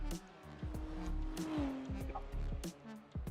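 BMW GT3 race cars duelling at the Gilles Villeneuve circuit in a racing sim, engines whining up and down through gear changes with brief tire squeal, heard faintly under a commentator's voice.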